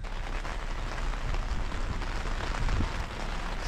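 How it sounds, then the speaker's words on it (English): Heavy rain pours down over an outdoor workspace where an old roadster is being built, a dense, steady hiss of drops hitting surfaces that runs without break and without voices. "I just start getting somewhere and then it pours down with rain."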